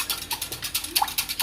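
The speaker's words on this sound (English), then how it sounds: "So just gonna get a whisk and mix." Quick, rhythmic scraping of a whisk through cornstarch and water in a bowl for sweet and sour sauce, close and fairly quiet, strokes repeating several times a second.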